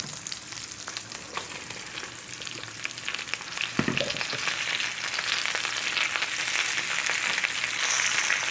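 Cabbage and sausage fry in a hot pan, giving a steady, loud, broadband sizzle with crackling pops and a brief stir partway through.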